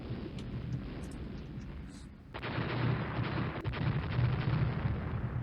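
Naval 6-inch gun salvos in the warship strategy game Rule the Waves, deep booming reports with a heavier rumbling blast partway through, moderately loud with no talk over them.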